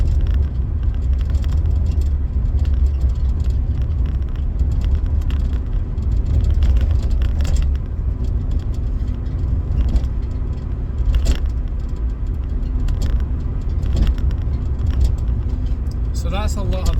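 Steady tyre roar and road rumble from a Volkswagen Polo driving over a rough, broken road surface, heard from inside the cabin as a continuous loud low drone with occasional knocks and rattles.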